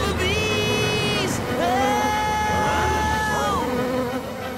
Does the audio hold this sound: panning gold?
no